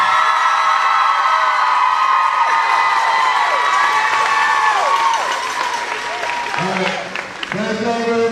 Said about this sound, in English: I want y'all to give a round of applause to State Farm Insurance Company.